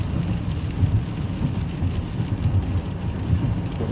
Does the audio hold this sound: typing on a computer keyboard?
no